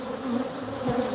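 A close, even drone of honey bees fills an open hive where big-eyed drones walk among the workers, a brief unbroken buzz with no voices.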